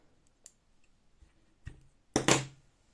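Scissors snipping crochet thread on a crocheted bunny rattle: a couple of faint clicks, then one louder, close snip near the end, in an otherwise quiet setting.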